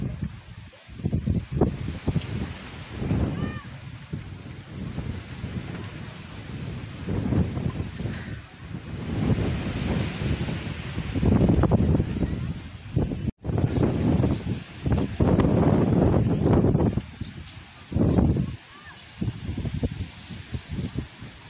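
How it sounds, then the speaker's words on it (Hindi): Strong, cold gusty wind buffets the microphone in heavy, rumbling waves that rise and fall continuously, with rustling noise underneath throughout. "तेज़ हवा चली हुई है, ठंडी ठंडी"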